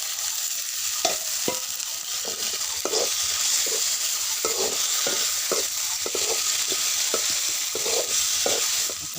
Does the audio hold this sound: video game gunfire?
no